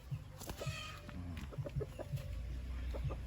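A pure golden boy pullet chicken clucks in short repeated bursts, with other fowl sounds and a steady hum behind.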